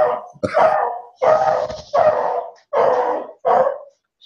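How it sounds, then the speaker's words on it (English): A beagle barks loudly and close by, six separate sharp barks in a steady rhythm with brief silences between them. "That dog's yelling at somebody."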